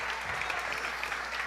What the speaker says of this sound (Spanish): Dale un buen aplauso a la ministra